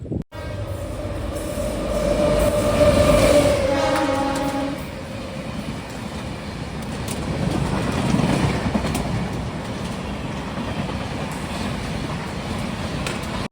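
Bilaspur Tirupati Express train passing at a crossing, a rolling rumble with a sustained horn-like tone early, then rhythmic wheel clatter swelling and easing as the coaches go by; no talk.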